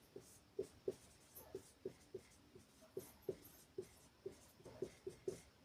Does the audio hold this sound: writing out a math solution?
yes